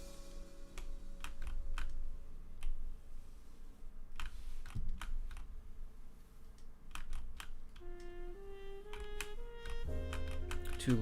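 Loud computer keyboard typed in irregular bursts of crisp, close clicks, with electronic game tones stepping in near the end.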